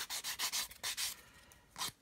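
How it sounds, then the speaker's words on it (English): Sanding stick rubbed in quick back-and-forth strokes over the cut edges of a 1/200 scale plastic Titanic model hull piece, close and crisp, about eight rasping passes then a pause and one final stroke, with no talk. "grab a sanding stick and just clean off these edges"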